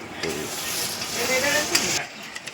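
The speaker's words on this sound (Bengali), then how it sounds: "মাংসগুলো ফুটছে কি দারুণ" Meat cooks in a pot over a wood fire in a hotel kitchen, giving a steady, close bubbling sizzle and hiss that cuts off near the end.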